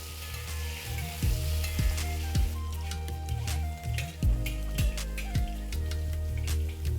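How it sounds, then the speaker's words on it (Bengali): Potatoes fry in hot oil in a pan over a medium-high flame, giving a steady, close sizzle broken by the clinks and scrapes of stirring, with no one talking. "আলুটা দেওয়ার পরে ফ্লেমটাকে মিডিয়াম টু হাই করে এটাকে ভালো করে ভেজে নিন"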